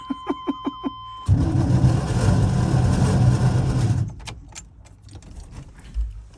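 A few short clicks, then a 1984 Suburban's engine cranks steadily on its starter for several seconds before cutting out, followed by faint rattling and a soft thump.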